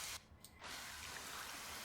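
Focused spray from a washer in the video game Moldwasher, a steady close hiss of water that stops briefly near the start before resuming.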